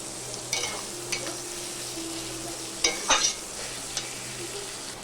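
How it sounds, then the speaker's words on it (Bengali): Chopped tomato stirred into frying fish in a pan, a continuous sizzle with a few spoon scrapes and clatters, close and without speech. "টমেটো কুচিটা আমি দিয়ে দিয়েছি দিয়ে একবার নেড়ে দেবো"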